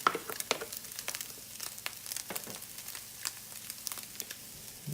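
Ground beef cooking with mushrooms and onions in a pan gives a steady low sizzle, broken by frequent sharp crackles and the scrape of stirring, with no voices over it.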